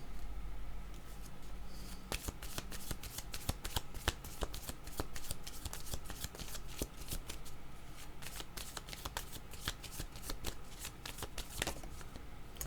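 Tarot cards being shuffled, a dense run of quick riffling and slapping card sounds repeating steadily for several seconds, close and fairly quiet.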